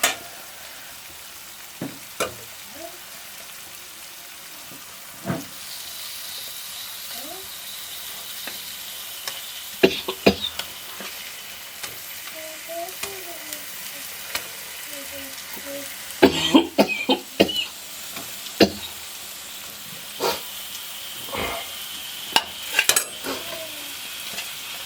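Pieces of murrel fish (korameenu) hit hot oil in a pan for a curry, a steady sizzle running throughout with scraping stir strokes and clatters of a spoon against the pan, busiest in the second half.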